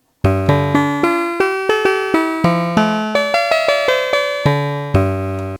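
A Kawasaki Kids toy keyboard on its guitar voice plays a melody of plucked-style notes, each with a sharp attack and quick decay, about a dozen and a half notes in a steady rhythm, loud and close with no talking.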